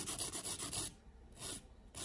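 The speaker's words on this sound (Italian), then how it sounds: "io limo sempre la punta" An artificial fingernail tip is filed in a close, rasping burst of quick back-and-forth strokes, a pause, then a second shorter burst, with no talking.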